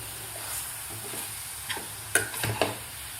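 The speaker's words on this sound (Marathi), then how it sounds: "आता व्यवस्थित मिक्स करायचं आपल्याला." A sweet jaggery and nutmeg filling for Maharashtrian patoli being stirred in a pan, a soft low sizzle with a few light scrapes and taps toward the end, no voices.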